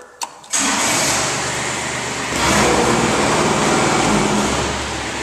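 A Kubota KX41 diesel mini excavator starts with a brief crank, then catches into a loud, close, steady diesel rumble that rises slightly in revs midway.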